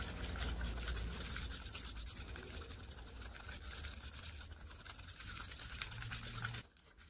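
Old acrylic paint being stirred in a container for pouring art, a soft continuous scraping and rubbing that runs steadily and quietly before stopping abruptly near the end.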